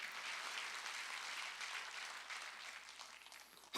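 A church congregation at a Sunday service claps together, a soft, distant patter of many hands that holds steady and then thins out before a sudden bump at the very end.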